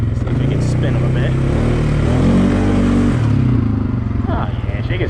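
A Polaris Sportsman 450 ATV on 28-inch Mega Mayhem tires revs and spins them, a loud close engine climbing and holding a high rev before dropping back, with a voice speaking over it.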